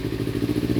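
A motorcycle engine running steadily at close range, a low even throb with no gaps and no voices over it.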